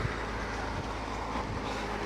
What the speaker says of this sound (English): There we have a train.